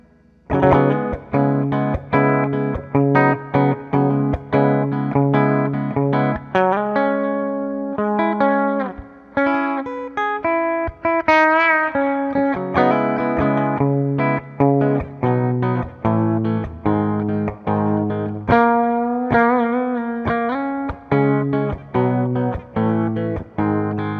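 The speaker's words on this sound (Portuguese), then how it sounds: "Que eu tô aqui simulando no Amplitube um Twin Reverb" Electric guitar played through an Amplitube simulation of a Twin Reverb amp, routed via an M-Vave ABY pedal: a loud, continuous run of plucked notes and chords with rich sustain and effects, no talking.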